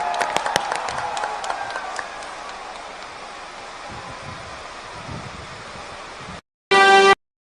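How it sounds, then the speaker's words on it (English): Stadium crowd applause at the Durand Cup 2024 opening ceremony in Kokrajhar, with sharp claps at first thinning into a broad wash of distant crowd noise, then a brief loud burst near the end. "Round of applause, please."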